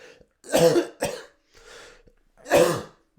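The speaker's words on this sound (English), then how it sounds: "I'm so sorry about my cough, guys." Three harsh, close coughs with a softer throat-clearing breath between them, separated by short silences.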